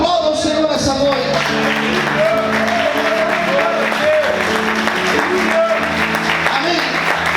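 A church congregation claps and cheers during an evening service, a continuous, loud wash of applause with voices and musical tones running underneath throughout.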